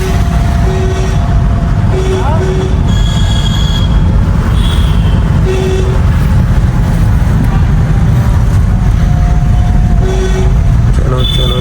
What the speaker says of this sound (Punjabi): ਹੌਰਨ